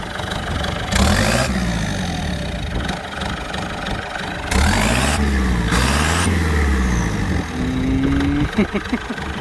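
Kubota LC 708 dump truck engine idling with a steady low rumble, joined by several rising revs and louder engine surges, while people talk over it.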